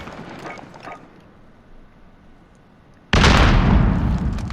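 A spawn tube launcher fires in Modern Warfare, a sudden loud blast that cuts in after a stretch of quiet game ambience and sustains as a dense roar to the end.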